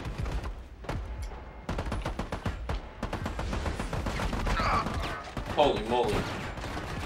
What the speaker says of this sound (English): Oh, they're throwing grenades. And they're shooting.